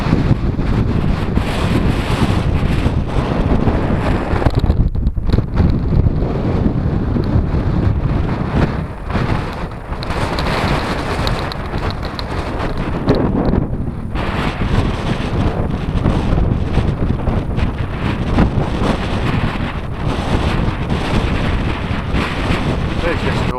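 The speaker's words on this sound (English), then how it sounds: "I couldn't talk on it, it was so windy." Heavy wind buffeting a microphone on a Dartmoor hike, loud and continuous roar with low rumbling gusts throughout, no clear voices.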